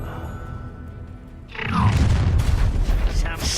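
A Confringo fire spell in Hogwarts Legacy sets off a heavy booming explosion about halfway through, after a quieter stretch, with rumbling, crackling debris trailing off afterward.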